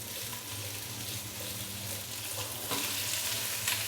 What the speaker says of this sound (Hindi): मीडियम से हाई फ्लेम पे हमने जल्दी जल्दी सब्जियों को फ्राई कर लेना है।